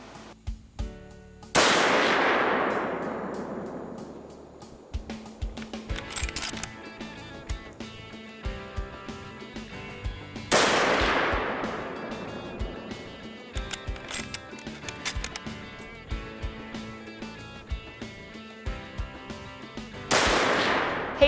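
Rifle shots ring out on a whitetail deer hunt in the Allegheny Mountains: three loud, sharp cracks about ten seconds apart, each trailing off in a long echoing decay, with small clicks and handling noises between them and no talking.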